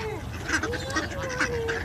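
Several geese honk and quack together in a busy, continuous chorus, close by, with overlapping calls and background noise.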